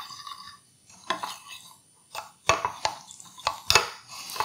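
Powdered sugar and apple cider glaze being stirred in a bowl, giving a series of close scraping, clinking strokes with brief pauses between them, no talking.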